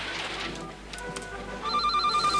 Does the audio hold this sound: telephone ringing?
yes